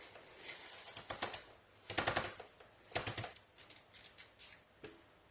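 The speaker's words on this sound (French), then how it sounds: "Et on va venir évider la pomme." An apple is cored with an apple corer, giving quiet bursts of crisp scraping and crunching in several short rattling clusters.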